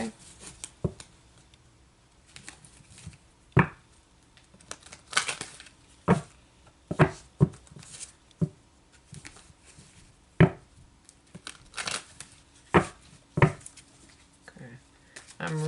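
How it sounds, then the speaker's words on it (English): Archangel Oracle cards being reshuffled by hand, a string of sharp papery snaps and riffles in irregular bursts, close and fairly loud, with soft rustling between the strikes. "I'm reshuffling these for a reason"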